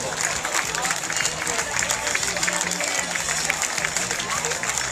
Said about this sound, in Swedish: Och nu ska vi applådera stenhårt.